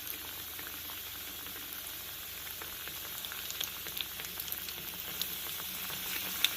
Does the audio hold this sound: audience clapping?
no